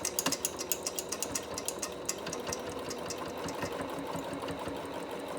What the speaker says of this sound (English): I'm going to flip it around with the needle in the fabric, still in the machine, and run back over.